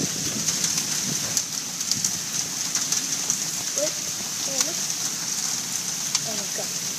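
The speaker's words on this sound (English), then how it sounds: "I've never seen hail that's strong." Dense patter of hard ice pellets striking surfaces, a continuous clattering hiss with scattered sharper hits and a few faint bird-like chirps.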